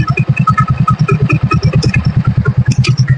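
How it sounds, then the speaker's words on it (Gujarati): A Hero Splendor BS6 motorcycle engine idles close by with a fast, steady low-pitched putter and light mechanical clatter throughout. "આ BS6 બાઇક છે ને એ જોયું ને તમે, એનું સાઉન્ડ બી હું સંભળાવી દઉં તમને"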